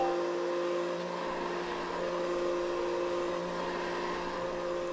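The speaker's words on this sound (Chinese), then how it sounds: "你看，我发明的这个巨型抽油烟机可以把所有天空的油烟全部都抽到外太空去。" A giant range hood runs at high power, giving a loud, steady mechanical roar with a constant hum that holds unchanged for the whole stretch, with no voices over it.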